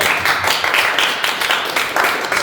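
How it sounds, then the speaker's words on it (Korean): Applause from a church youth-group congregation at a Sunday service, a steady burst of many hands clapping at close range for about two seconds. "와, 박수."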